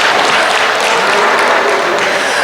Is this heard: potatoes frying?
no